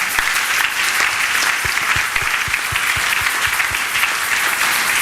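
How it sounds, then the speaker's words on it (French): A church congregation applauds the Lord at a Sunday service, with steady, loud clapping from many hands filling the room for several seconds. "Si tu peux acclamer le Seigneur encore une fois."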